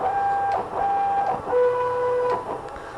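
Stepper motors whine in steady electronic tones that jump between pitches across several short moves, as a CNC router homes its axes.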